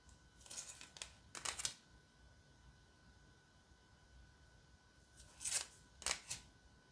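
Oracle cards being shuffled by hand, two separate bursts of quick papery riffling near the microphone with a quiet pause between, no talking.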